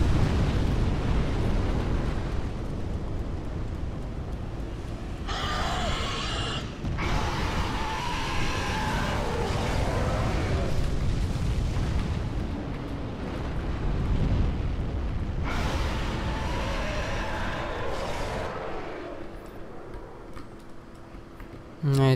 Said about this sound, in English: this dragon breathes his fire